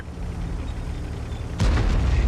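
Tank cannon blast in World of Tanks from a KV-1 or enemy SU-85, a sudden heavy boom erupting after quiet engine rumble and ringing out loud and near.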